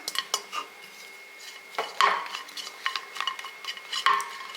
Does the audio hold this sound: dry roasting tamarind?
yes